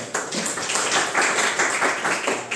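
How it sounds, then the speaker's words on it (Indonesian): A classroom of students clapping their hands together, a quick, loud burst of fairly steady claps lasting a couple of seconds. "tepuk tangan dulu untuk itu"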